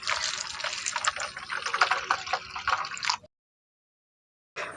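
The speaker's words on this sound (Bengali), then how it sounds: "এখন সয়াবিনের মধ্যে জল দিয়ে দিচ্ছি" Water poured into a bowl of dry soybeans in a kitchen, a steady splashing, gurgling fill for about three seconds, then silence before the flow briefly resumes.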